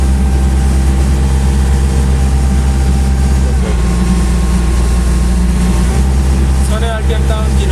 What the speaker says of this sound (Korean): 조향 작동 시에 엔진 RPM이 다운되게 되어 있습니다